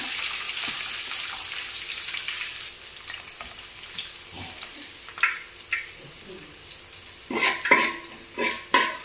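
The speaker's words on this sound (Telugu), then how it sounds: "హోల్ స్పైసెస్ ఫ్రై అయిపోయినాయండి" Whole spices for chicken pulao fry in a pan with a soft sizzle, then a spoon clinks and scrapes in louder bursts near the end, with brief faint speech in the background.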